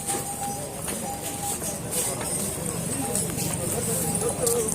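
Hooves clip-clop along the busy Kedarnath pilgrimage path among horses, carriages and palanquins, with irregular clicks sounding close by. A steady crowd murmur and talk run beneath them.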